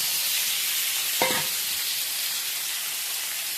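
Chopped teasel gourd (kakrol) mash fries in oil, a constant bright close sizzle with one brief scrape of stirring partway through, no voices.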